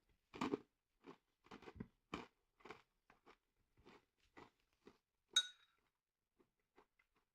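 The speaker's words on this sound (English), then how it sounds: "I'm going to eat a few of those so you can hear the real crunchiness." Crunchy knapperbolletjes, little soup sticks shaped into balls, being eaten up close: about a dozen sharp, brittle bites and crunches in an uneven rhythm, with quiet gaps between them and no talking.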